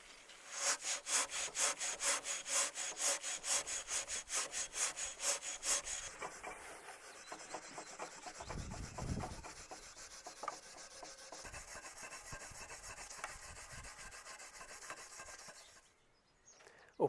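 A brass railway train staff is rubbed with a fine abrasive in quick, regular back-and-forth strokes, close and crisp at first, then softer and more irregular scraping before it stops.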